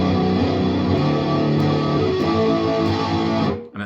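Distorted electric guitar riff with steady power chords ringing out, a lesson-style playthrough that includes an added power chord, loud and sustained before cutting off near the end.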